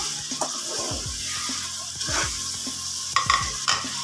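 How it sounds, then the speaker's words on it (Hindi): Boiled beef sizzles in hot oil for pulao while a spoon scrapes and stirs through the pot in repeated strokes, with a few sharper clinks near the end. "2 मिनट के लिए हम इसको फ्राई कर लेते हैं"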